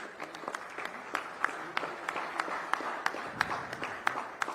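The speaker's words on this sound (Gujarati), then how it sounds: "ખૂબ ખૂબ તાળીઓ સાથે આપણે સતત" An audience at a government Good Governance Day ceremony applauds an award recipient heading to the stage, with steady, dense clapping and sharper individual claps popping out, sustained throughout.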